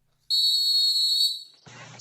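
A shrill high whistle blast used as a podcast segment sound effect, one sustained piercing tone lasting about a second, then a short fade and faint trailing noise.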